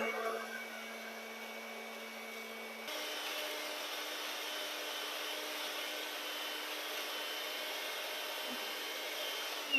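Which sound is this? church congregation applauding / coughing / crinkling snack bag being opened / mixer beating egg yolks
mixer beating egg yolks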